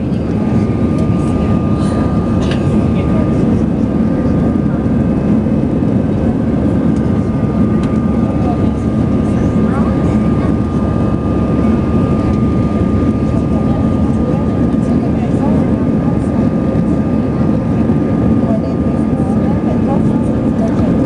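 Allegiant Air airliner cabin in flight: a loud, unbroken engine and air roar with a faint steady tone fills the whole stretch without letting up.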